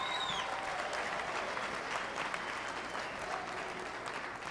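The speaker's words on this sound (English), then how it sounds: "let's give them another round of applause" An audience applauds a brass band, sustained, fairly faint clapping from many hands with a roomy, distant quality, steady throughout with faint crowd noise underneath.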